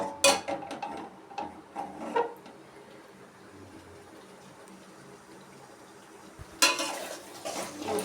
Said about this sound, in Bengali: এবার আমি একটু কষিয়ে নেব।